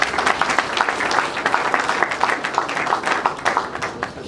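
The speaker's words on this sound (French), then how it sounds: "que je vous prie d'applaudir encore une fois" An audience at a young entrepreneurs' innovation forum applauds in a hall, a steady, dense wash of clapping from many hands that holds at an even level without pause.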